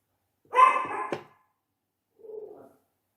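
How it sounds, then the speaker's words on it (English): A small Yorkshire terrier gives a couple of sharp, high barks close by, then a shorter yappy bark after a brief pause. "sorry for the barking."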